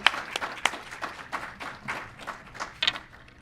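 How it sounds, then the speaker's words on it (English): A crowd at a Black History Month celebration in Chicago applauds a young man, with loose, uneven clapping and a few sharp individual claps standing out, moderately loud throughout. "Another round of applause for this amazing young man."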